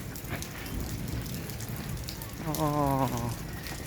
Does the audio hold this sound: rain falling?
yes